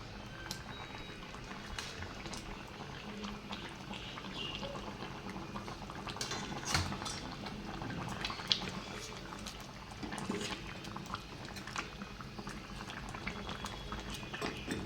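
A pot of water bubbles at a steady rolling boil while fish curry is cooked, the dense gurgling and popping continuing evenly throughout with no talk.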